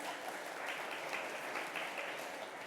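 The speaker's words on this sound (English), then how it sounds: "So, round of applause." An audience at the Ecomm Forum 2025 business conference applauds steadily for the whole stretch, a dense, even clatter of many hands with no voices over it.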